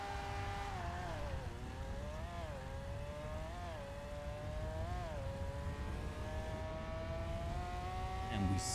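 Taxi engine in the GTA NoPixel game revving steadily, its pitch rising and dipping in repeated surges over continuous rain and road noise, with a brief clatter at the end and a voice speaking throughout.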